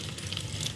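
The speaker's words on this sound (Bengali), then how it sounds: "এখানে তেলে দিয়ে দিই পনিরগুলো" Paneer cubes frying in hot oil, giving a soft, steady sizzle that holds evenly through a brief stretch, close and without speech.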